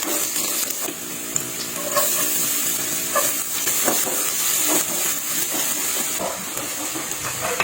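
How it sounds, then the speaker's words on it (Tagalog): Ginger, garlic and onion sautéing in a pan for a salted egg dish, a loud, steady close-up sizzle with scraping stirs throughout and no talk. "Iginisa ko na ang luya, bawang at sibuyas."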